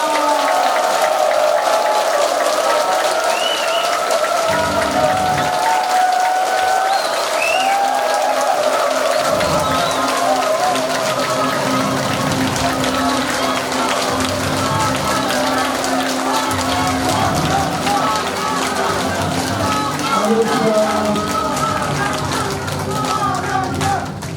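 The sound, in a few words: audience applause welcoming the speaker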